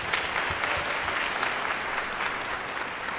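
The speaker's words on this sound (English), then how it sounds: "Let's give him another round of applause." A crowd at the Morehouse School of Medicine winter commencement claps steadily in a thick, even wash of applause with no break across the short stretch.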